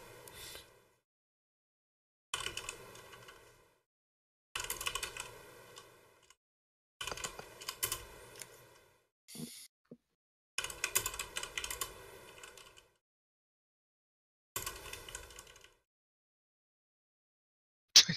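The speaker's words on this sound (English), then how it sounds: "Sorry, making the typing here." Bursts of typing on a computer keyboard, close and fairly crisp, arrive in short runs of rapid key clicks separated by quiet pauses, with no talking over them.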